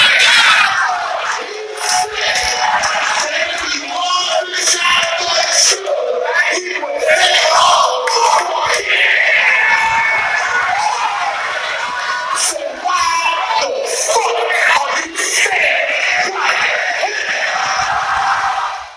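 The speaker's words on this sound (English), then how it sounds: "battlers saying their slogans and the crowd saying it with them" At a rap battle, a dense, loud crowd chants and yells along with a battler's slogan. The roar of voices shouting in unison stays steady and close throughout, with cheers and screams mixed in.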